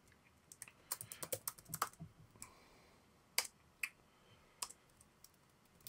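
Keys clatter on a computer keyboard while something is entered into a PHP coding editor, with a quick burst of uneven clicks followed by a few sparse, isolated keystrokes. The typing sounds close and moderately quiet, and no one speaks.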